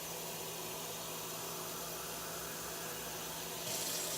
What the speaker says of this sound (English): I will fill this cup up with water.